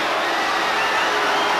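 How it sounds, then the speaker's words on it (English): A capacity tennis crowd at Madison Square Garden roars with mixed boos and cheers, a dense, loud and steady wall of voices throughout. "the boos and cheers of almost equal strength in this capacity crowd"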